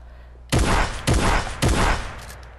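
Three loud, rapid shotgun blasts in a video game, each a sharp broadband boom about half a second apart with a short ringing tail, alone without talk.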